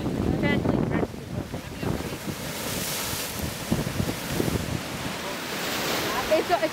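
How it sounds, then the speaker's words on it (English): Lake Erie water splashing against shoreline rocks, with rushing waves surging and breaking close by under steady wind buffeting the microphone. "So the water will splash against the rocks"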